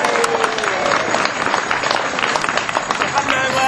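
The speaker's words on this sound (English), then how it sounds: "big cheer for Chris" A crowd at an outdoor civic ceremony in Southwell, the handing over of the Southwell Pence, cheers and claps steadily throughout, a dense wash of applause with voices mixed in.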